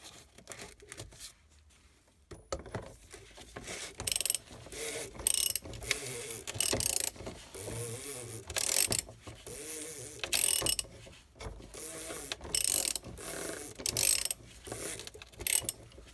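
Repeated ratchet clicking in bursts as an oil filter housing cover is snugged on a BMW E60 M5 during an oil change, close and fairly loud with brief pauses between strokes.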